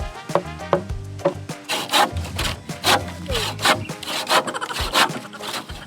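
A hand saw cutting hard wood for a goat house with rhythmic back-and-forth rasping strokes, close by, over some low background tones.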